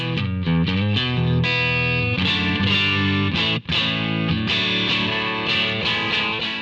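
An electric guitar played through a Browne Amps Protein dual overdrive pedal gives loud, crunchy overdriven riffs with sustained distorted chords, briefly cutting out near the middle before ringing on.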